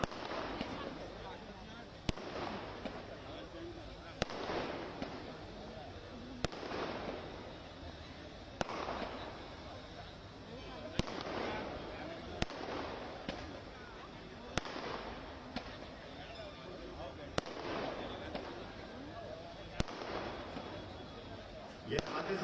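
Fireworks burst at the opening of the Gwalior Mela, a series of sharp, loud cracks at roughly two-second intervals over a steady crowd and outdoor din.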